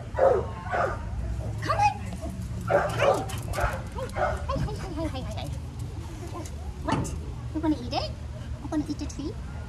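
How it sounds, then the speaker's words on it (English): Dogs bark and yip a few times in the distance while a person talks close by over a low background rumble. "There's dogs over there."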